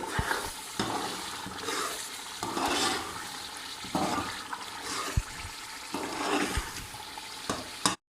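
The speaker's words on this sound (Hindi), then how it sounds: "अब इस स्टेज पे हम डालेंगे 1 टेबल स्पून गरम मसाला और इसके साथ इसे 1 मिनट के लिए भून लेंगे" Minced meat keema with garam masala frying in oil in a pan, a continuous close sizzle with stirring scrapes and occasional louder bursts, no talk.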